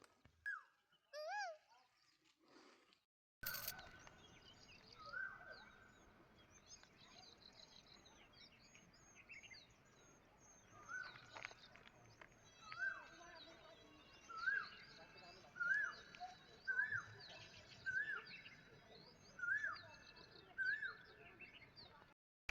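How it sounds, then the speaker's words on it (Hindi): Repeated rising calls of an Asian koel along a village path in the hills of Champawat, a regular series of loud clear whistles in the second half over outdoor background noise, with a few other bird chirps. "कोयल की आवाज़ सुनो"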